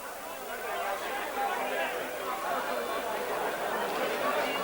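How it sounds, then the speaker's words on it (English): Crowd noise at a 1988 Donegal Gaelic football county final between Killybegs and Kilcar, with a dense, continuous roar of voices and shouting that stays at a steady, fairly loud level for the whole stretch. "With all the shouting and cheering, it's hard to hear whistles"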